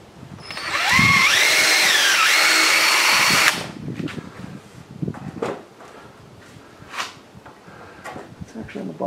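A power drill whirs for about three seconds, enlarging a hole for a support rod on a worm-bin stand, its pitch rising then settling, followed by scattered knocks and handling noises.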